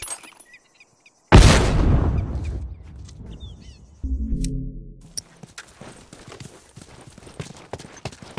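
A loud, close explosion in a first-person shooter game hits abruptly and rumbles away over a few seconds, followed by a thudding burst and scattered clattering impacts.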